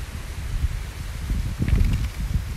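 Wind gusting through the trees of a public park in Krabi, Thailand, a soft, steady rustle with a louder swell of blowing near the end, heard alone without talk.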